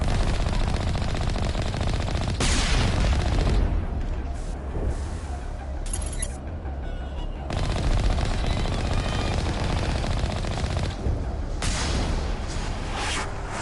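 Vehicle-mounted machine gun in Mass Effect fires in several loud rapid bursts, separated by short lulls of quieter engine and ambient noise.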